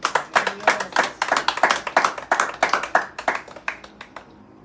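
A church congregation claps hands together in a quick, uneven rhythm, a dense run of sharp claps that carries on for several seconds before thinning out and stopping.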